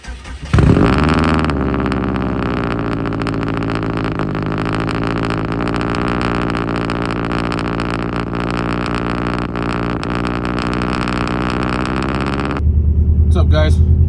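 A 500-plus horsepower Subaru Forester XT cold starts with a loud exhaust, catching with a burst and then settling into a steady, high, droning idle before a deeper rumble at the end.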